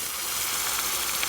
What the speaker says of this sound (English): And now we're going to add our crushed tomatoes.